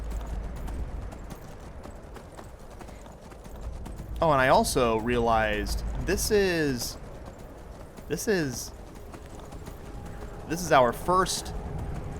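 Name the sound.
horse hooves clip-clopping, Shadowmare in Skyrim video game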